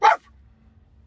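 A person imitates a dog barking, a single short sharp bark at the very start, followed by a faint low rumble like an idling car.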